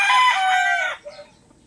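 A backyard rooster crows loudly and close for about a second, followed by a few faint clucks from chickens tethered around a muddy yard in Cavite during the rainy season.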